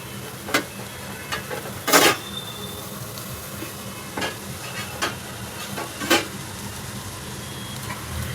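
Spoon stirring a fenugreek leaf stir-fry with grated coconut in a pan, a few scattered scraping clacks at uneven intervals over a faint sizzle.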